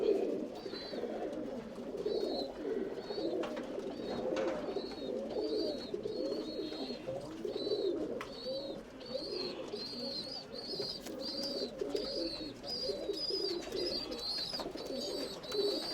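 Tumbler pigeons in a loft keep up a steady, murmuring chorus of soft coos, several birds overlapping near the microphone, with faint chirps above and no talk.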